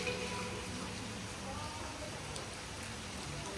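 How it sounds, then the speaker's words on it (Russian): Rain falls steadily at a Maldives island resort, a soft, even patter that stays fairly quiet throughout without a break. "Отель провожает нас дождем."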